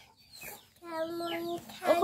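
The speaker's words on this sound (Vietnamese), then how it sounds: "gà con nhiều con gà con của bác nhiều lắm" Chickens on a rural mountain homestead cluck close by in a short burst of harmonic calls, with faint background sounds around them.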